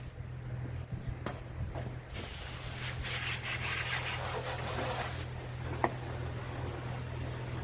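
Distant tree cutting, with a steady low motor drone running throughout and rough sawing and rubbing bursts on top, faint and far off with no talk.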